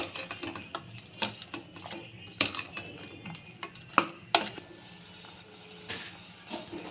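Masala for a mutton gravy curry stirred and frying in a pan, with a steady soft sizzle broken by repeated scraping clinks of a spoon against the metal, close and fairly quiet, no talk.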